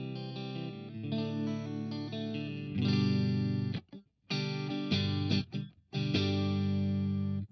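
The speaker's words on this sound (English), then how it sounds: "now let's check out some clean tones through this. This is my Fender Player Series Stratocaster." A Fender Player Series Stratocaster plays a clean tone through a Seymour Duncan Powerstage amp: sustained strummed chords ringing out, then several short, choppy chord stabs separated by brief silences.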